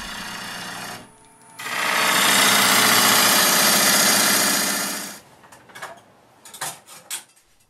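A woodturning lathe hollows out a bowl of urban lumber, a steady loud whirring cut that runs for about four seconds, then stops, leaving a few short scrapes and knocks.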